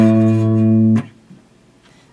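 A guitar rings a sustained pair of octave notes starting on G, from the chorus of a song, that cut off abruptly, followed by near silence and a faint soft knock.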